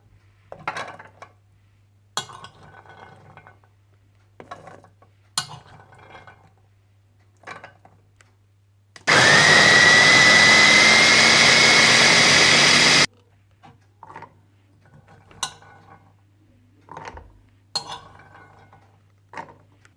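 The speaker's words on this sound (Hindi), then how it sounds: "कुटी काली मिर्चें, सफ़ेद तिल, कुटी लाल मिर्चें, और चने डालकर अच्छी तरह से पीस लें।" An electric grinder blends chickpeas, black pepper, sesame and red chili for falafel in one loud, steady burst of about four seconds, framed by quieter kitchen clinks and handling.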